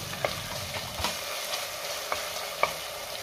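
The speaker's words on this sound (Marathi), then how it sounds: "आता हे सगळं व्यवस्थित मिक्स करून घेऊया।" Spices, green chilli and red chilli powder fry together in a pan with a continuous gentle sizzle, while a spoon scrapes and taps the metal in several sharp strokes, close up and without voices.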